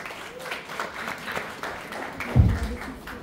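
An audience claps at a business success-story talk, a moderate, loose patter of hands with a dull thump near the middle, fairly close and continuous over the short span.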